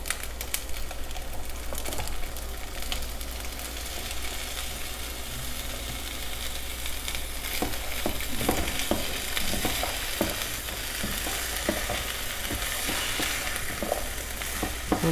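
Tomato added to a pan of frying chicken stroganoff sizzles steadily, with scraping stirring strokes and clicks rising in the middle of the stretch, all close and moderately loud, with no speech.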